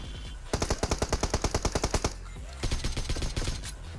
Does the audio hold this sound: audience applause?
no